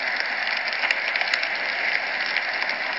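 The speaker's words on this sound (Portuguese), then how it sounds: "Ixi, começou a chover." Rain in the video game Survivalcraft 2, a steady hiss of falling rain with fine pattering drops, constant and fairly loud, with no speech.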